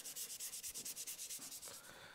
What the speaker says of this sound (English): I've saved sanding these pot recesses until last.